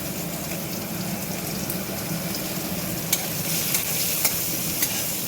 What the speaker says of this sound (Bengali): পেঁয়াজটা আমি একটু খুন্তি দিয়ে একটু নেড়ে চেড়ে নিলাম